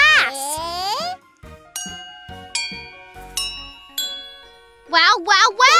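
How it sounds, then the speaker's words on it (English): Water-filled drinking glasses struck like a xylophone ring out in a series of clear, bright dings of different pitches, one after another. A voice sings or exclaims before and after the tones. "It sounds just like a xylophone. Water glass xylophone."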